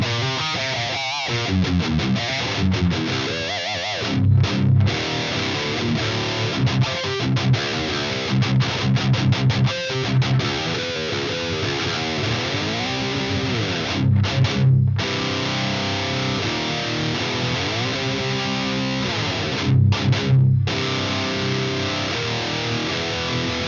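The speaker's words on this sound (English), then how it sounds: "the crunch channel I used on the clip, it sounds like this." Marshall JCM2000 TSL amp on its crunch channel playing metal guitar: heavily distorted, chugging riffs with palm-muted bursts and brief stops, loud and continuous with no talking.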